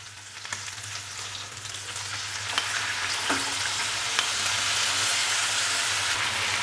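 Fresh yogurt going into a pan of frying black pepper chicken, a steady sizzle that swells gradually louder, with faint stirring clinks and no voices.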